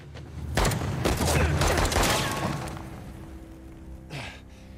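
Gunfire in the video game Uncharted: The Lost Legacy comes as a quick burst of sharp shots in the first two seconds, then fades, with a single fainter shot near the end.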